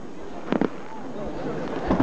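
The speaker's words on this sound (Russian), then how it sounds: "Говно, не салют, Катька, вообще" New Year fireworks display in Kostomuksha heard from a distance, with a few muffled pops and bangs over a steady hiss of background noise while people murmur nearby.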